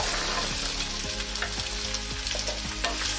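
Cubed potatoes and carrots are stir-fried over high flame for aloo gajar matar subzi. A constant loud sizzle is broken by a regular rhythm of spatula scrapes, roughly every half second, and no one speaks.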